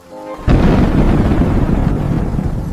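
A deep rumble of thunder breaks during a storm and rolls on loudly for about two seconds. It sets in with a sudden heavy boom, then fades only slowly. No talking is heard.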